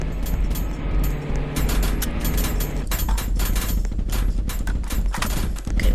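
Rapid bursts of gunfire from a shooter in a video game, dense and continuous over engine rumble, with sharp cracks stacking into fusillades across the whole stretch.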